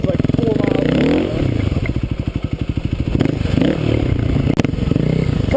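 A dual-sport motorcycle engine rumbles and revs continuously while riding, loud and close, with pulsing throttle changes and a voice talking over it.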